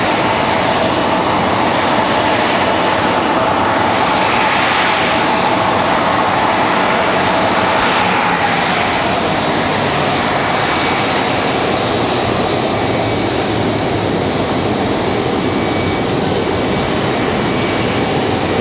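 American Airlines jet at Raleigh Durham airport, a loud continuous engine roar with steady broadband rush and no breaks, dominating the scene.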